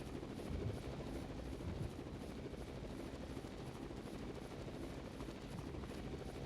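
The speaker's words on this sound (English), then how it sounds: "hey look, the helicopter is here." A helicopter arriving in the video game Raw Danger, a continuous loud rotor roar and engine drone holding steady throughout, with no voices over it.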